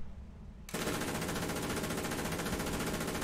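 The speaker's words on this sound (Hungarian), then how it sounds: "Meg ugye itt a géppuska, meg a másodlagos fegyverzet is működik." A tank's machine gun fires in War Thunder, starting abruptly after a moment of engine rumble and continuing as a loud, dense, unbroken burst of rapid shots to the end.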